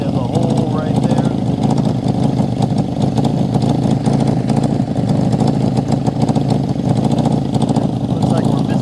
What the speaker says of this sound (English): Sounds like we got an exhaust leak somewhere